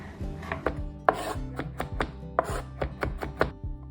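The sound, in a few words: chopping garlic with knife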